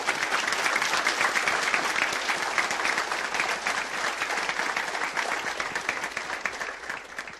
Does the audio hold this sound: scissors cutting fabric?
no